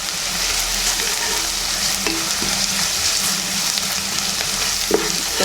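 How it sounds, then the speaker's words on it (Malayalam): Garlic and ginger frying in a pan for beef fry, a steady close sizzle with scraping stirs throughout and a sharper utensil knock near the end, no voices. "വെളുത്തുള്ളി ഇഞ്ചി ഒന്ന് നന്നായിട്ട് അതിൻ്റെ മണമൊക്കെ വരുന്നപോലെ കുറച്ച് നേരം ഇളക്കി കൊടുക്കണം"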